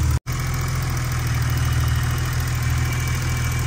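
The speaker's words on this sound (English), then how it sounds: "The unburstable 635 motor just doing what it should there." A 1986 BMW 635 CSi E24 engine idles steadily under the bonnet, a smooth, even hum heard close up and alone after a brief dropout at the start.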